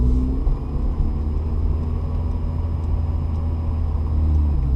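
A manual car idles and blips its engine during a rev-match downshift in a parking lot, with a steady low rumble and mild rises in engine tone, heard from inside the car with no talking.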